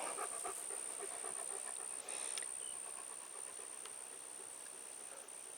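A dog lying on garden plants pants steadily and close by, with quick rhythmic breaths over a constant high-pitched outdoor hiss.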